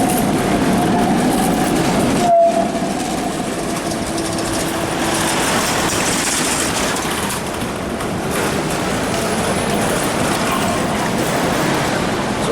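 An older tram rolls past near the Duomo Square in Italy, a loud, steady rumble and rattle of wheels on rails lasting over twelve seconds, with a brief squeal early on and a muted voice faintly underneath.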